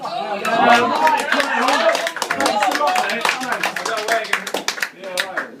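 People clap together at a trophy night, a lively burst of close handclaps mixed with chatter and voices talking over them, with the claps thinning out toward the end.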